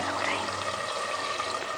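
Water poured into a pan of frying potatoes for a potato and egg curry, a steady continuous splashing rush, close and fairly loud, with no voices.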